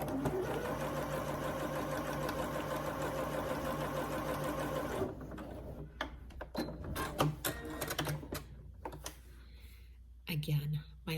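A sewing machine runs a steady, rapid mechanical chatter while basting long stitches, then stops about halfway through, leaving scattered clicks, handling noises and brief talk.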